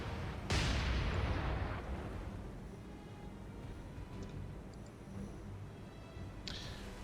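A heavy naval gun salvo from the War on the Sea game booms loudly, then rolls off into a long rumbling tail, with a second, quieter blast toward the end.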